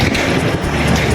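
Loud, continuous wind buffeting a microphone, a rough roaring rumble with no other sounds.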